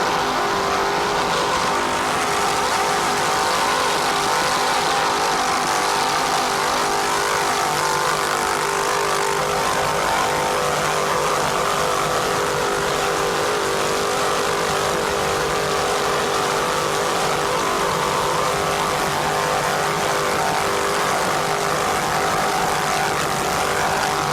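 Loud, steady engine roar from the B-44 Triton, a 31-foot Aerotech racing powerboat with twin 580-horsepower inboard engines, at the 1994 Jacksonville Grand Prix, a dense unbroken drone without talk.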